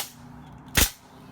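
A nail gun drives a single nail into a wooden pedalboard with one sharp, loud crack in a quiet workshop.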